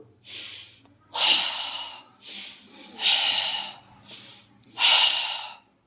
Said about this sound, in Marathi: तर आता श्वास ओढ